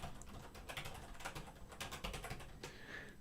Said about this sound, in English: I'll type it in there